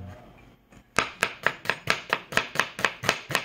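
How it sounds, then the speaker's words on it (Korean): A knife slices an onion on a cutting board in a steady run of about eleven crisp, close chops at an even rhythm, following a brief quiet pause with no talk. "잘 써네, 양파."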